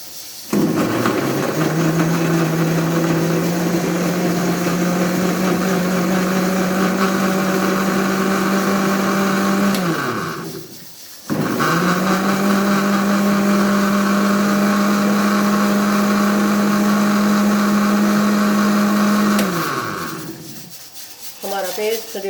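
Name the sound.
blender grinding tomatoes, green chilies and ginger into paste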